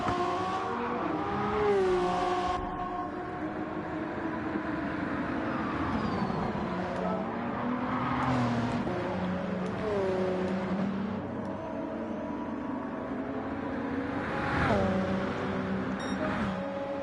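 Several race car engines whine and rev in an NES-style racing game at Monza, overlapping pitched drones rising and falling throughout as cars shift and pass, steady and fairly loud.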